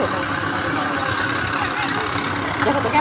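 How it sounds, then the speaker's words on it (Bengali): Engines of sand-carrying trawler boats approaching on the water give a steady, continuous drone mixed with broad wind-like noise, moderately loud and unbroken throughout. "দেখো ওই যে দুইটা ট্রলার আসছে, দেখছো? বালুর ট্রলার।"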